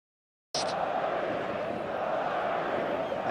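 Stadium crowd in the eFootball video game swells into a dense, steady roar that starts abruptly after a short silence and holds loud and continuous throughout, building toward a crescendo with no talk over it.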